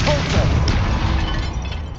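A Catapulta spell explodes in Hogwarts Legacy as a loud, booming blast with a rumbling crash that fills the whole moment, with a voice over the top.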